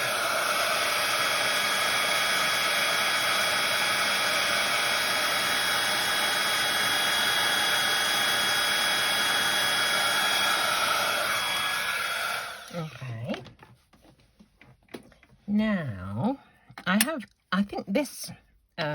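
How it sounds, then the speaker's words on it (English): A heat tool blows a loud, steady, close whooshing roar while heat-setting embossing powder on a die cut, running for about twelve seconds before cutting off, after which someone talks. "So now I'm just going to heat set this."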